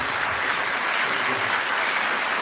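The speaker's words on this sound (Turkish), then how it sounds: "Bu alkışlar yetmez diye düşünüyorum" Sustained, dense applause from a concert audience at a Yunus Emre poetry night, a loud, even roar of many hands with no breaks.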